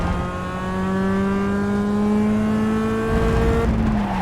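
A Mazda MX-5 Cup race car in the iRacing simulator at Circuit of the Americas drones at high revs, its engine pitch climbing steadily under throttle before a brief drop near the end, loud and close.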